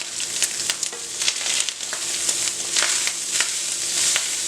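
Sausage fries in a pan with a steady crackling sizzle and scattered sharp pops, close and continuous without any talk.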